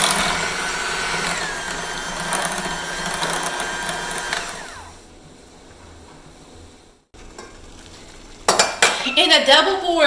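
A cup of lime juice is mixed into key lime pie filling in a bowl: a spoon or whisk clinks and scrapes busily against the bowl, loud and close, then a quieter pause before a voice speaks.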